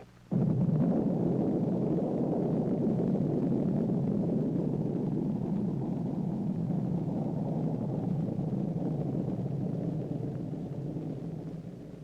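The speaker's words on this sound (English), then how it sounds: "Seven Minuteman missiles were fired during 1965." A Minuteman missile launch, a sudden onset into a loud, steady, deep roaring rumble that holds for several seconds and slowly tapers as it recedes.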